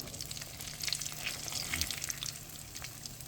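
Catfish fillets fry in a pan of oil, giving a steady broadband sizzle with crackling pops, slightly louder midway, with no voices.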